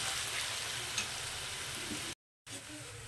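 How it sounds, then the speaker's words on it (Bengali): Potatoes frying in a small amount of oil give a steady, close sizzle with fine crackle, continuous apart from a brief cut near the end. "তো দেখুন বন্ধুরা, কত সুন্দর ভাজা হচ্ছে একদম অল্প তেলেই।"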